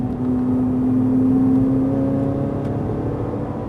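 A Ferrari 458 Italia accelerates on a circuit at Fay-de-Bretagne, its engine a loud, close, steady drone with a rising tone that shifts partway through as it pulls hard.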